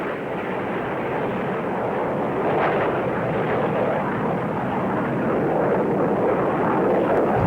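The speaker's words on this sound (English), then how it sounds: "catapult hurls the F-14 into the heavy sea air" An F-14 Tomcat jet roars off an aircraft carrier's catapult at sea, a broad, sustained engine rush that holds steady and swells slightly toward the end, heard alone without voices.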